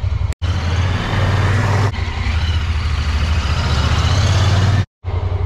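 A 2022 Honda Pioneer 1000-5 Forest Edition side-by-side engine runs steadily and loudly close by with a low rumble, starting off on a test drive, briefly cut by two short gaps of silence.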